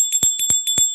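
A temple bell rings in quick repeated strikes, about four within a second, each with a bright metallic tone that lingers and sustains between hits.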